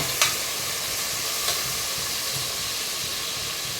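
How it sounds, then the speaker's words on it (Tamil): Onion and tomato fry in a pan for banana flower biryani, with a constant close hiss and sizzle and two faint utensil clicks. "இப்போ வெங்காயம் ஊற்றி தக்காளி போட்டுக்கணும்"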